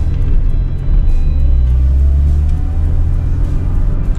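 Loud, steady engine drone and road rumble from inside a Suzuki Swift GTi 16v hatchback cruising, with slight shifts in engine pitch.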